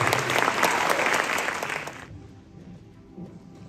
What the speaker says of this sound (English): please join me in a round of applause in welcoming these students to the Caldwell chapter of the National Honor Society